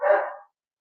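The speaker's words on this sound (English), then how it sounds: "that's my dog again" A single short bark from a dog indoors, close and fairly loud, lasting under half a second before silence.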